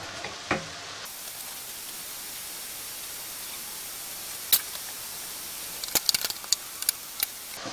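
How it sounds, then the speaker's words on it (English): Onions sauté in a pan over medium-high heat with a soft, steady hiss, quiet and continuous, broken by a few faint clicks and taps of a utensil toward the end. "we're just going to saute that around for a moment"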